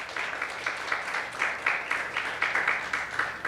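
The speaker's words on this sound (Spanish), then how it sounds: "Denle un aplauso al Señor." A church congregation applauding together, a continuous mid-level wash of many hands clapping in loose rhythmic surges, heard from within the room.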